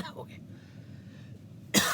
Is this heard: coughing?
yes